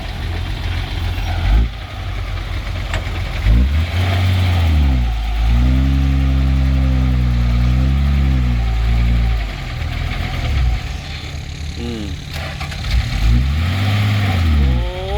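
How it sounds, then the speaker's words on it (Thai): A ten-wheeler truck grinding along a slippery, sticky dirt road, its diesel engine loud and close, rising and sagging in laboured revs that swell, dip and surge again as it strains for grip. "เครื่องมันไม่ไหวครับ"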